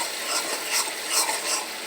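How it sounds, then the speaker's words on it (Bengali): Spice paste of chopped onion, ginger, garlic, cumin, chili and turmeric frying and being stirred in a pan, a loud close broadband sizzle with soft scraping swells throughout. "এখন মশলাটা ভালো করে কষিয়ে নেব"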